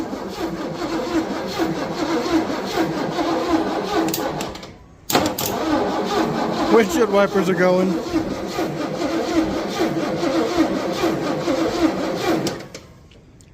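An old Lincoln car that has sat unused for a long time cranks over on a new starter relay, then idles with a loping, galloping rhythm. The engine runs steadily and fairly close, with talk over it throughout.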